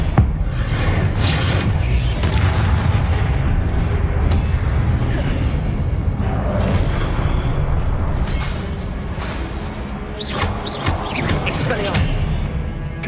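Confringo fire spells blast statues in the Hogwarts Legacy video game, a run of loud booming explosions and crashing bursts that rumble on densely, easing briefly before fresh blasts return.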